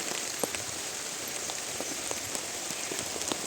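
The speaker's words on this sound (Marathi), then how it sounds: "अचानक पावसाला सुरुवात झाली" Sudden rain falls steadily on a farm where onions are stored, a dense, even patter of drops hitting surfaces, with scattered louder individual splats throughout.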